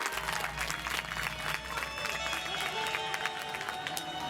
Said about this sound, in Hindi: ये दोनों जन के सम्मान में एक बार ताली बजा दो